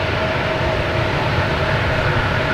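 A FlexJet jet takes off at Boston Logan Airport, heard from a distance as a broad, steady roar of engine and rushing noise, fairly loud and sustained throughout, with no voices.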